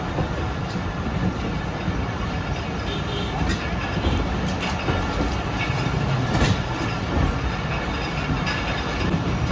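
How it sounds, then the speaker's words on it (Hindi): A train pulls out of a small station in Sindh after a two-minute halt, its rolling wheels giving a steady, moderately loud rumble and faint clatter throughout, with crowd noise around. "मुश्किल से 2 मिनट रुकी और डिपार्ट कर रही है ट्रेन"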